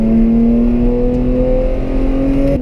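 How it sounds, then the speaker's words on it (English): A Porsche 991 GT3 on a race circuit, its engine droning loud and steady from inside the car with a slowly rising pitch as it accelerates, then an abrupt change near the end. "We're gonna take a ride in his 991 GT3"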